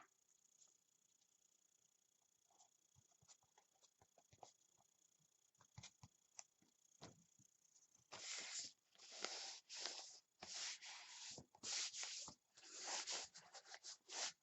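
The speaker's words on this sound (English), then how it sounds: "I'm rubbing away this glue because it's the kind that turns into a temporary adhesive when it dries" Dried glue being rubbed off journal pages by hand, faint scratchy friction at first, then louder rapid bursts of rasping strokes in quick succession, close up with no talking.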